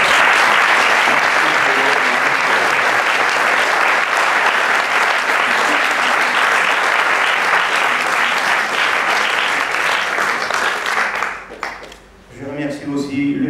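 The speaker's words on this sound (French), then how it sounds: "je demande au grand public qui est ici d'applaudir très fort ceux qui ont fait cette main ce festival" A large festival audience at the FIFIGROT 2013 closing ceremony applauds loudly and continuously for the organizers, a dense sustained roar of clapping that fades out near the end as a voice begins.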